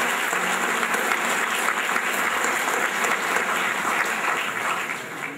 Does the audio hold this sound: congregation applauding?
yes